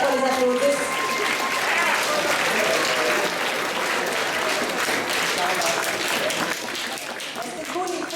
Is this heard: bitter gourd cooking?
no